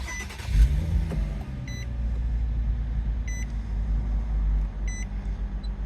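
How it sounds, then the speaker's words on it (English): A 2012 Infiniti FX35 engine starts and settles into a steady low idle, with a few short electronic chimes sounding at intervals and no talking. "We'll go ahead and start her up."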